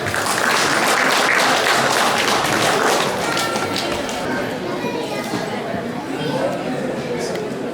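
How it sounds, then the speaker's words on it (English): An audience applauds the speaker as he is welcomed at a Kriya Yoga talk, with loud, close clapping that fades into a softer patter while voices chatter faintly underneath. "Please give him a round of applause."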